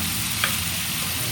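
Jitada fish fries in a pan with a steady, close sizzling hiss and one brief crackle partway through.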